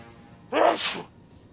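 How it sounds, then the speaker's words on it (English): A single sharp sneeze bursts out close by, quick and loud against a quiet room. "1 second, I'm going to sneeze."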